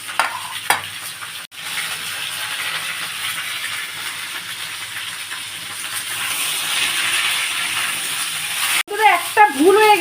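Ridge gourd pieces fry in a pan of hot oil, a loud continuous sizzle with stirring scrapes, sharp clattering bursts at the start and near the end, and a voice speaking briefly at the close.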